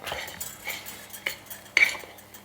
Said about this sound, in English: First, let's give that a little stir. Just mix those up together.